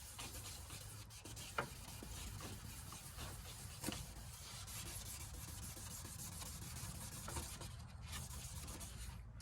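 Steady, soft hand-sanding of a plastic car headlight on a Gen 1 Nissan Xterra/Frontier, a continuous scratchy rubbing with a few faint strokes, close and quiet, no voices.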